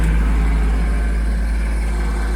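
A Kubota B2650 tractor idles with its cab door open, giving a steady, close, low engine drone with a faint hydrostatic transmission whine on top. The sound holds unbroken throughout.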